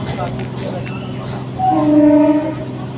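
A local train runs toward Namkhana with a constant low rumble of wheels and carriages, and a sustained horn blast sounds for under a second midway, loud and close.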